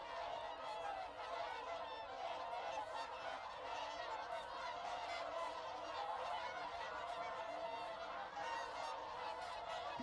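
Whooper swans from Iceland wintering on a lake give a steady chorus of honking, bugling calls, many birds overlapping continuously at moderate distance with no talk.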